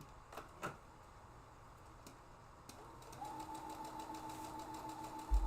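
A sewing machine stitches fabric pieces together at a craft table: a few clicks and taps of setup, then a steady high motor whine with rapid needle chatter running continuously to the end.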